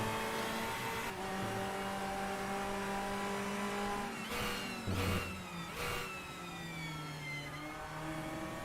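Several race car engines in a Portimao racing video game rev and shift with rising and falling harmonic tones, a sharp burst around the midpoint, sustained and loud throughout.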